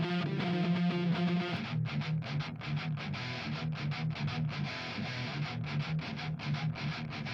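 Heavy distorted metal guitar chugging through a BIAS FX amp simulator metal preset, with a sustained chord at first, then tight palm-muted rhythmic riffing, loud and dense.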